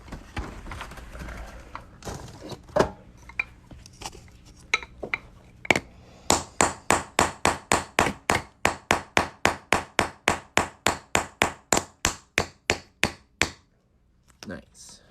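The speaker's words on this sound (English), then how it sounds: "Hit it with a hammer." Repeated sharp metallic hammer strikes, first scattered, then a fast, evenly spaced series of about twenty ringing blows on a steel punch, close up.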